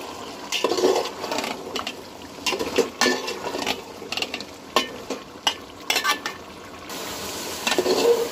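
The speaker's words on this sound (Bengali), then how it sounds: "ভিউয়ার্স নাড়াচাড়া করে কষিয়ে নিলাম।" Chicken curry with fried potatoes being stirred and fried in a pan: repeated scraping strokes of a spoon against the pan over a steady sizzle, close and fairly loud, with no talking.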